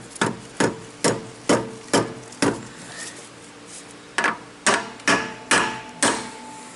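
Sharp, loud hammer blows strike a metal part being pressed into place during an exhaust and differential install on a 240SX. There are about a dozen strikes in an even rhythm, with a short pause midway.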